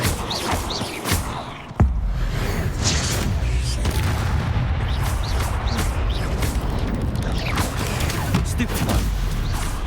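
Incendio fire spell cast in the Hogwarts Legacy video game on Xbox One: a sharp burst near two seconds opens into a loud, sustained roaring, crackling blast that fills the rest of the clip, with talk underneath.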